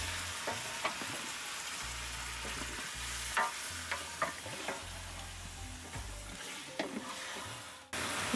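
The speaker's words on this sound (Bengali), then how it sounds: "একটু ভাজা ভাজা করে নিলা হ্যাঁ ভাজা ভাজা করে তেল বের করে নিতে" Onion and mutton fry with whole spices and shahi jeera in a pot for white mutton polau, a steady sizzle broken by repeated scraping stirs and clinks of a spoon, close and alone with no talk.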